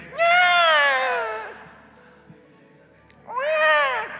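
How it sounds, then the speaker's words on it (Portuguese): A newborn cries loudly and close during a Sunday church service, two long wailing, mewing cries separated by a quiet pause filled with faint room noise. "Não é um gato não, viu, irmão? É choro de neném."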